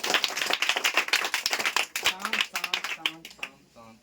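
Village schoolchildren clap together in a quiz classroom, giving a dense burst of applause for about two seconds before it thins into scattered claps under a speaking voice.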